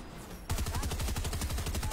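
Rapid automatic gunfire from a weapon in the video game Fortnite starts abruptly after a brief quiet moment and continues as a steady, loud burst of closely spaced shots.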